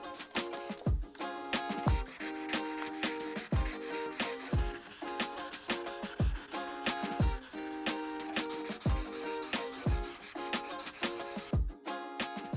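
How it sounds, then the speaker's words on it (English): A sanding block with 800-grit sandpaper works over painted filler in steady back-and-forth strokes. The rhythmic, close rasping scrape repeats about once a second, with soft music playing underneath. "we're gonna sand it with the block and take it up through 800 grit"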